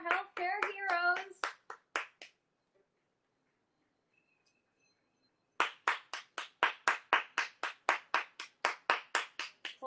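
Hands clap for healthcare workers: a short burst with a voice at the start, a near-silent pause, then a run of close, crisp, evenly spaced claps in a steady rhythm of roughly two per second.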